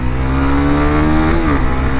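A Honda CB150X motorcycle engine revs loudly and steadily, its pitch climbing then briefly dropping at a gear shift before pulling again, close and without talk.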